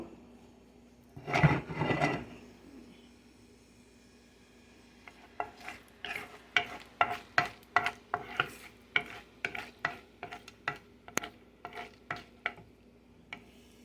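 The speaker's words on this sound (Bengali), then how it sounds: "শুকনো মরিচটা একটু তেলের মধ্যে আমি প্রথমে একটু ভেজে নিব" Dried red chilies frying in oil, a burst of sizzling followed by a long run of rapid, rhythmic scraping taps of a utensil in the pan, close and moderately loud.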